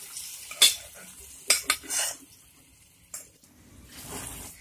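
A utensil scrapes and clinks against a pan of chicken gravy in a few quick strokes, with a soft sizzle in between and no talking.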